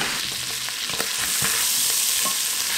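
Pork ribs fry in a pan with a dense, steady sizzle, close and loud, with a few soft scrapes as they are stirred.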